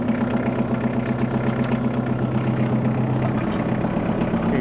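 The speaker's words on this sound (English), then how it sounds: "Got the post hole digger on this little Kubota tractor." A small Kubota tractor fitted with a post hole digger idles steadily nearby, a low even diesel chug with faint mechanical knocking and no talk over it.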